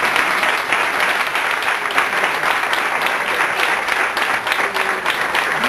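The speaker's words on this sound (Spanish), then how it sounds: "repitiéramos el aplauso" A conference audience breaks into loud, sustained applause, dense continuous clapping filling the whole stretch without pause.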